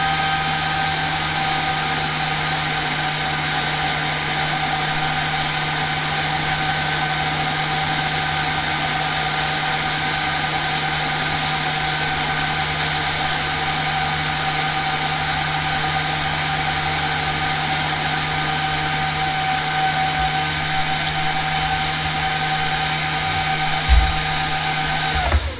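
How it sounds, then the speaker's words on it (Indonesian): A very fast fan blows loud and steady over a MacBook Pro 16-inch 2019 (A2141) logic board with a shorted SSD NAND, a constant jet-like whine with a low hum beneath, running unbroken until it cuts off at the end. "Kita dinginkan langsung ya biar cepat dengan fan super kencang."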